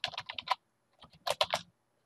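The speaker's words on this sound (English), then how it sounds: "the way to put stuff in the cells is click on the cell and start typing" Fingers type on a computer keyboard, entering values into spreadsheet cells: a quick burst of close, crisp key clicks, a short pause, then a second rapid flurry.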